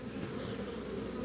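A swarm of bees nesting in a shed makes a steady, dense buzzing drone, close and continuous, with no voices.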